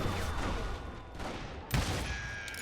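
Gunfire from Billy the Kid on a rooftop in the Western video game Call of Juarez: Gunslinger, a dense rattle of shots with one sharper crack partway through, fairly faint under the game's ambience.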